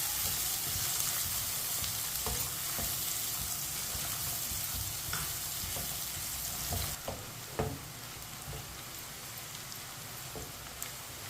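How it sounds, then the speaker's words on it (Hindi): Garlic and onion frying over a medium flame in a pan, browning as they are stirred with a spoon, giving a steady close sizzle with occasional scrape and clink accents throughout. "लहसुन और प्याज को दोनों को हल्का सा ब्राउन कर लेंगे।"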